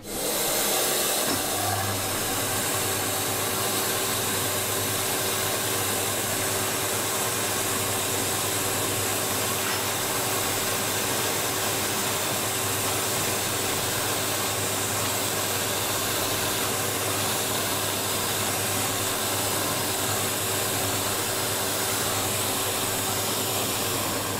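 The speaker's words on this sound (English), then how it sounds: "I've actually got extraction on this one, so I'll turn the extraction on" Workshop dust extraction runs continuously at a drill station while making a firesteel handle, a loud, steady roaring hum with a constant tone that holds unchanged from start to finish.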